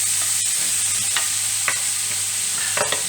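Onions tipped into melted butter in a pan, giving a steady close sizzle with a few sharp crackles and stirring scrapes, no voices over it.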